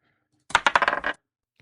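A short recorded handful of dice tumbles and clicks to a stop, a quick bright rattle of about half a second standing alone against silence, used as a roll effect in a dice app.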